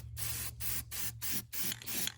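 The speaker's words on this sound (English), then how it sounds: "find like some really old wore out can of spray paint" An old, worn-out spray paint can sprays in five or six short hissing bursts separated by brief gaps, close and fairly quiet, over a low background hum.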